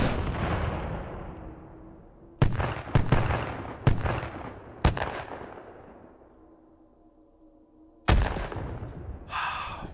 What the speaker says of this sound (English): You're going to see it go off and then actually split into all of these separate fireworks in the sky.